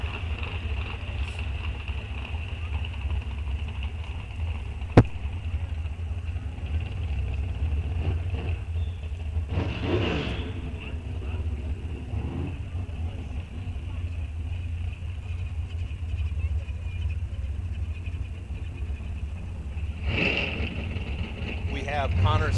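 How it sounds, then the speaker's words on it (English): Engines at a drag racing raceway during a bracket series event, a steady low rumble throughout with two louder passes swelling around the middle and near the end, moderately distant. "I hear race cars"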